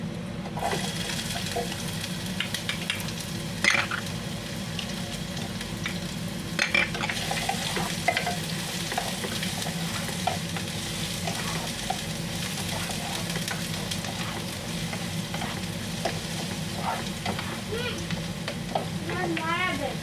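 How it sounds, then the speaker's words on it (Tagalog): Garlic and onion sauté together in a pan with a continuous crackling sizzle and occasional stirring scrapes, steady and close throughout. "Sabay na natin ang sibuyas kasi mabilis naman po yung maluto yung bawang."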